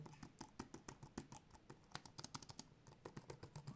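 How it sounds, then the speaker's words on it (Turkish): Rapid, steady clicking of the keys on an Asus ROG Flow Z13 gaming tablet keyboard being typed on, light and close, with no talking. "çalışırken bu şekilde sesler çıkartıyor klavyemiz"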